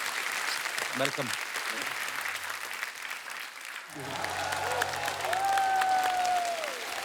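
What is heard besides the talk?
TV show studio audience applause and cheering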